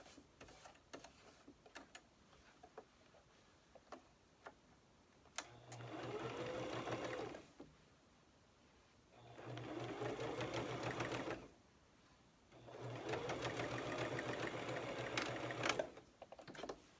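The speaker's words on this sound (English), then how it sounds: "Notice I'm stitching my right side of my fabric to my lining portion, to the lining side of my mask." A sewing machine stitches a 1/4 inch seam joining the outer fabric to the lining of a cloth face mask, running in three steady bursts of several seconds each, separated by short quiet pauses.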